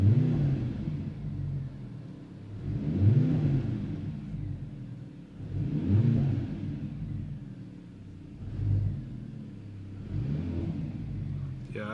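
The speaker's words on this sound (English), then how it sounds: "Yeah, it revs the car a bit, the engine a bit higher." A new Mercedes-AMG C63 in Sport Plus mode revs repeatedly, five low, rumbling throttle blips spaced about every two to three seconds, each swelling and falling back to a muffled idle as heard from inside the car.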